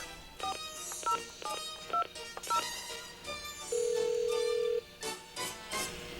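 Touch-tone telephone dialing to a county sheriff's department, several bursts of DTMF key beeps in quick groups, then a sustained ringback tone, heard clearly and alone with no talk.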